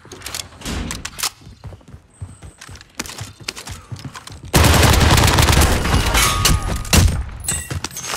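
Call of Duty Warzone gunfire on Rebirth Island: scattered single shots at first, then a loud, sustained barrage of rapid automatic fire erupts midway and keeps going.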